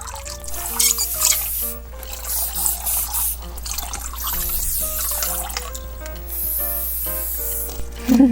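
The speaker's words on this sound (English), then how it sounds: "They all can squirt water." A toy squirts water in a thin, spraying trickle with drips, fairly faint and close, over soft background music, with no talking.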